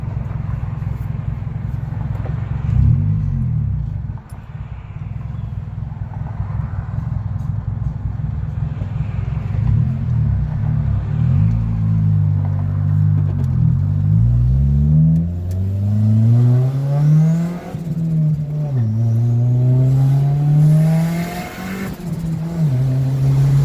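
A 2019 Chevrolet Camaro SS V8 with its secondary catalytic converters deleted revs hard up close, its pitch climbing and dropping through several pulls and gear changes, with no other sounds competing.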